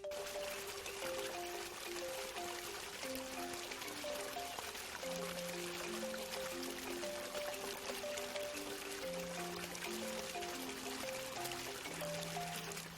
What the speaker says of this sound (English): The water makes a sound as it runs down the stream.